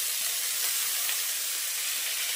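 Dal and rice hit a hot pan of oil with turmeric and salt and set off a steady, loud, close hiss and sizzle that holds without a break, with no talking.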